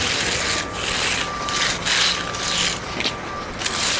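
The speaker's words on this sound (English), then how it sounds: "Get this flattened out, then I'll give it a quick full float." A hand float rubs and rasps steadily across a freshly poured concrete slab, a continuous close scraping with slight pauses between strokes.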